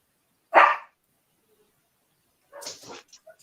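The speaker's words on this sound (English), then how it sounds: "You want outside to bark at something?" A single sharp dog bark rings out, followed after a pause by a quick cluster of softer yips and barks, close by in a quiet room.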